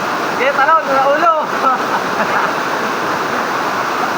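Steady, loud rush of Mahogany Falls waterfall in Dingalan, Aurora, a dense continuous water roar with a person talking over it near the start.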